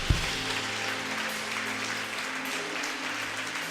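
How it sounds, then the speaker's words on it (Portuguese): Congregation applause at a Portuguese-language evangelical church service, a steady, dense wash of clapping from many hands lasting throughout, fairly even in level after a sharp first clap. "Você pode dar uma salva de palmas ao Senhor?"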